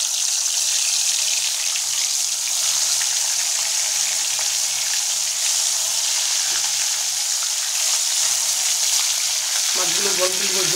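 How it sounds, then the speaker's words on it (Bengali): Singhi fish pieces coated in salt, turmeric and mustard oil frying in hot oil in a wok, a loud continuous close sizzle that shifts briefly near the end, no talk. "মাছগুলো গরম তেল যোগ করে দিচ্ছি।"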